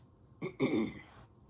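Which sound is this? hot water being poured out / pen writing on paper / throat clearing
throat clearing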